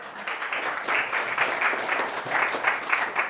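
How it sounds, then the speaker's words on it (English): An audience at a London entrepreneurship evening gives a round of applause as a speaker is called on stage, a moderate, continuous patter of many hands clapping with slight swells. "so you can give him a round of applause."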